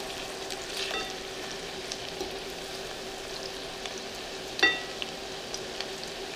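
Cauliflower pieces in batter frying in a pan, a faint, even hiss of hot oil with occasional soft pops and one brief clatter.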